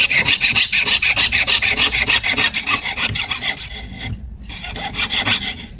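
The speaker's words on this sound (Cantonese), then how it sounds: "咁我哋當開始鋸嘅時候咧，我哋左手我哋要撳實個弓件啦，右手揸住個卓弓上下拉" A jeweller's piercing saw cuts through a metal workpiece held by hand, making fast, steady up-and-down rasping strokes close by that ease slightly before picking up again.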